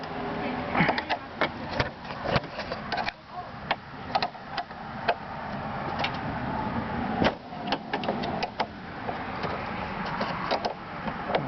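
A 10mm bolt on a Honda SH150i scooter being worked loose, giving a close run of irregular ticks, clicks and light metallic rattles over a low background rumble.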